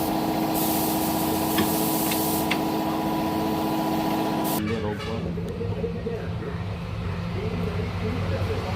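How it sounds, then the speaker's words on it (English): A sustained aerosol hiss sprays for several seconds in a car repair shop over a low mechanical hum, then stops, leaving rougher background noise. "Oh, it smells so strong. That is spray."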